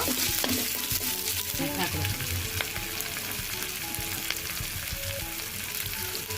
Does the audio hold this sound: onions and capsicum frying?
yes